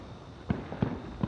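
Independence Day fireworks in 2021, three muffled distant booms spaced about a third of a second apart over a steady background rumble.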